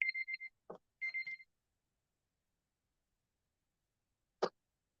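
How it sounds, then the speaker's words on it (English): A workout timer alarm goes off at the end of a mid-day cardio session, sounding short bursts of high electronic beeps in two quick clusters, then falling silent apart from a single soft thump. "My timer went off"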